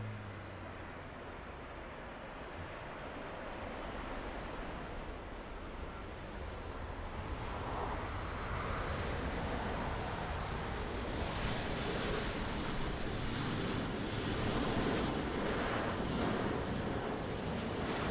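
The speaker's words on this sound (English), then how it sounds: "What a beautiful landing, 777" A Boeing 777 airliner lands at Lisbon Airport in the rain, its engines a broad, steady rush that swells gradually louder, heard from a distance with no talk.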